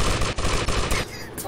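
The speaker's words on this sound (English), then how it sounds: "Oh, I'm shooting the wrong people." Rapid automatic gunfire from auto-aim shooting in GTA Liberty City Stories on mobile, dense bursts of loud shots with brief gaps, easing off near the end.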